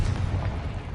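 A deep, rumbling blast from the Confringo fire spell in the video game Hogwarts Legacy fills the whole second, loud and booming with a low, rolling roar.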